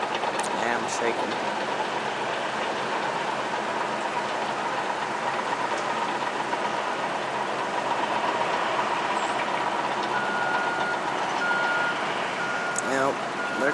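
Trucks at an ash spill cleanup site near railroad tracks, steady engine and rolling rumble with intermittent reversing beeps, a water truck working nearby, heard from a distance as a continuous outdoor drone.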